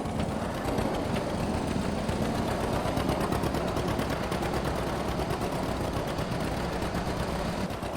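A small yard tractor engine chugs steadily in a farming video game, a loud, rapid mechanical putter running continuously without pause and without talk.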